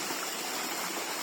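Water at Bawdacat Fall rushes in a steady, loud, unbroken wash of white noise, with no voices over it.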